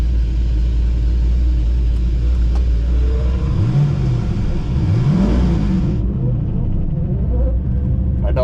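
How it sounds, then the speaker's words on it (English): A turbocharged Camaro's engine revs loudly and rumbles close by while a failing belt tensioner pulley sets the drive belt squealing, with pitch sweeping up and down through a couple of revs before the sound drops off. "My belt's squealing too."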